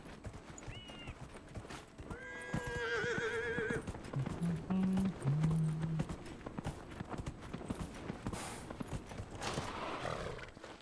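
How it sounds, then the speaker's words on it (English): Horse in the Dragon Age Inquisition video game whinnying loudly, then hooves clip-clopping in an uneven prancing rhythm over a busy background of game sound and music. "Can our horse prance?"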